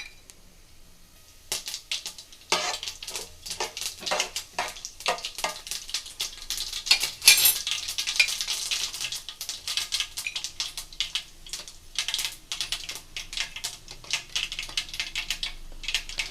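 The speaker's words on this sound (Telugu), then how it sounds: "ఇప్పుడు ఇందులోకి అయితే పోపు దినుసులు అనేవి అయితే యాడ్ చేసుకున్నాం" Tempering spices crackle and sizzle in hot oil for a bitter gourd fry, a close, busy run of sharp popping spatters and stirring scrapes that starts quietly and grows dense, with no talking.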